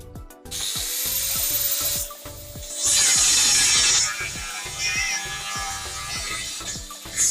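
Power sanding screw heads off a metal gate: a steady high whine with gritty scraping, rising to a harsher buzz midway, with rhythmic tapping underneath throughout.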